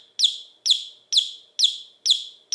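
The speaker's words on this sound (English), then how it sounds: "A chirping bird?" A vintage Christmas tree ornament chirps like a bird, sending out six sharp, identical electronic tweets at a steady, mechanical pace, loud and clean against silence.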